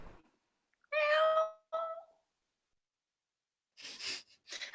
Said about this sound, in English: I can just hear cat noises.